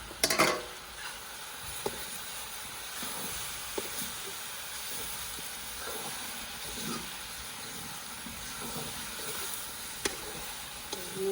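Vegetables sizzle steadily in a kadai on a stove, a soft continuous frying hiss with occasional faint clinks of stirring, low and unbroken throughout.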